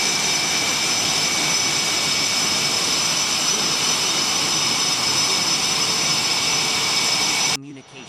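A US Navy fighter jet taking off from an aircraft carrier gives a loud, steady, close jet-engine roar for about seven seconds before the sound cuts off abruptly.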